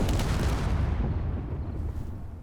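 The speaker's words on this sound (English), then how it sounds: "We know 1 bullet will destroy a warhead." A warhead explodes after a single bullet strikes it in the space game Space Engineers, a loud, booming blast that hits at once and then rumbles down into a long, fading roar, with no voices.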